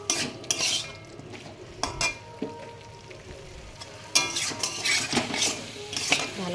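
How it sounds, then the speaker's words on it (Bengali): Fish is stirred into fried spice masala in a pan, giving intermittent scraping and clinking of a utensil against metal over a soft background sizzle, with no talking. "মাছটা দিয়ে ভালো করে আরেকটু কষিয়ে নেব"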